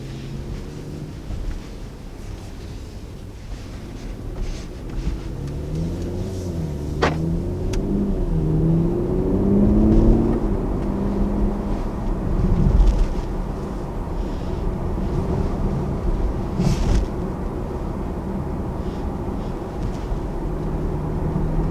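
A 2019 Audi RS5 Sportback drives along, its engine note rising and falling under acceleration with a low rumble, tyre and road noise, and a couple of brief cabin clicks.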